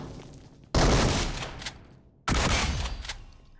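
Two loud, close shotgun blasts from a DBS shotgun in the mobile battle royale BGMI, each a sharp crack with a brief fading tail, about a second and a half apart.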